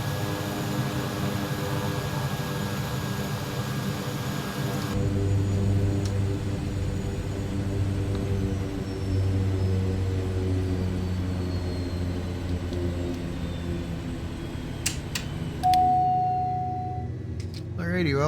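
A Kodiak bush plane in Microsoft Flight Simulator 2024, flying over Idaho, gives a steady, continuous engine drone. The tone shifts slightly partway through, and a short high electronic tone sounds near the end.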